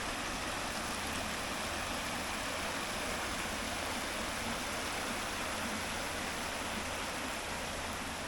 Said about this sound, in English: Spring Creek is flowing the further I go up the creek.